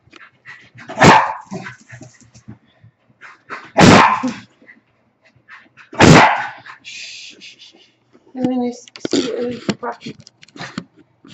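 An excited dog lets out three loud, spaced barks, followed by higher yips and whimpers, close by and alone.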